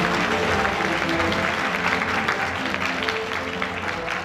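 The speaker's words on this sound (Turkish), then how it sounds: "Ben büyük bir alkış alabilir miyim ekibime?" Audience applause for the organising team at the Siyah İnci award ceremony, a steady wash of clapping filling the hall, fairly loud and continuous throughout with a faint crowd murmur underneath.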